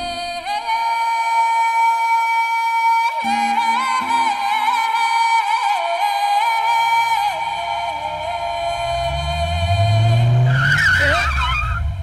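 In a South Indian action film scene, a car engine starts and whines over a steady tonal backdrop, then the tyres skid loudly with a rough, rising screech near the end.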